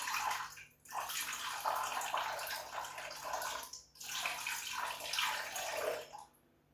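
Cool water pours steadily from a tap into a container on a kitchen scale, a continuous splashing rush with two brief pauses before it stops near the end; no talking.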